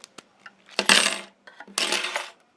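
A bunch of keys drops and jingles twice, each a loud close metallic clatter after a few light taps.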